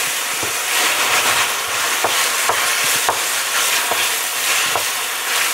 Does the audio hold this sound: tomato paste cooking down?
yes